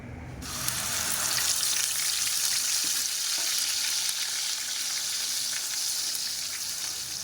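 A ground spice paste of ginger and garlic is poured into hot oil in a kadai for chicken curry, bursting into a loud, steady, close sizzle that holds to the end with no talk.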